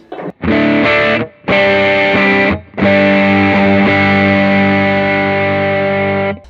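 Electric guitar through the high-gain side of an overdrive pedal, heavily distorted, playing loud chord strums, two short hits followed by a long sustained saturated chord, thick and compressed.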